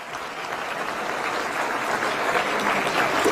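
Loud, steady applause from an audience at a Delhi government event with ministers, dense and continuous with no voices standing out, honouring the forest and environment minister and his department.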